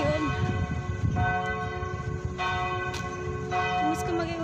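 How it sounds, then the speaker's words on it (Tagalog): A church bell rings out after a wedding ceremony, sustained ringing tones with struck repeats every second or so, heard from a moderate distance over background crowd murmur and street noise. "Malembang na yung kampana kasi tapos na yung kasal."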